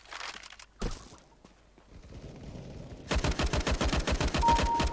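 Gunfire in the shooter game CS GO, an opening burst, then scattered footsteps and clatter, then a sustained loud rapid-fire spray of shots close up.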